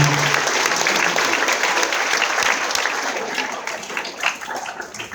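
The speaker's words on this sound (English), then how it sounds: "So give yourselves a round of applause, give the teachers a round of applause" A school assembly crowd of students and teachers claps loudly, a thick wash of applause that stays strong before tapering slightly toward the end, with a few sharper individual claps.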